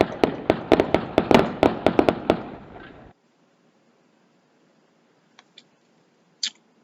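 Gunshots from a sheriff deputy shooting, a rapid close burst of about a dozen sharp cracks that stops abruptly and is followed by near silence with a few faint distant pops.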